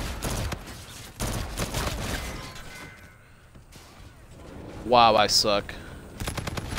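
Rapid automatic gunfire bursts in the shooter game Battlefield 2042, sharp repeated cracks in clusters amid in-game noise, with a player talking briefly between shots.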